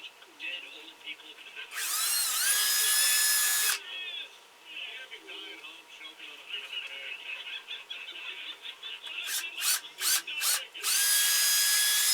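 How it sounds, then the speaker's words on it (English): A power drill with a 1/4 inch bit whines loudly drilling a hole in a plastic bottle in a long burst, then a series of short quick bursts, with a pause and another sustained run at the end. "drill a hole in that end, and then we drill a hole in the bottom."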